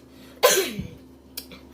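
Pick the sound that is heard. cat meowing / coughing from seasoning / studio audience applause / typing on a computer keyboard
coughing from seasoning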